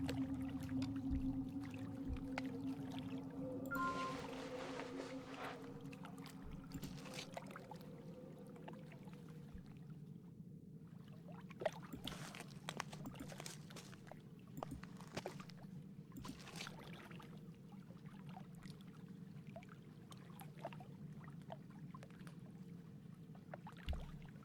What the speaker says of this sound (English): Where's the water sound in here coming from?